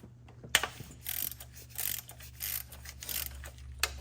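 A ratchet clicks repeatedly in bursts while loosening transmission bolts on a truck being prepped for a G56 gearbox swap, close and moderately loud over a low steady hum.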